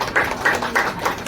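Four evenly spaced hand claps ring out at a steady beat during a Brahma Kumaris remembrance gathering for Mama Day, crisp and moderately close with no talk over them.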